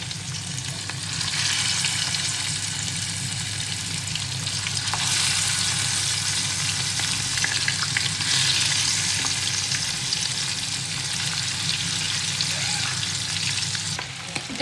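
Hilsa fish coated in salt and turmeric fry in hot oil, a loud sustained sizzle that swells as the pieces go in and holds steady close by, with no talking.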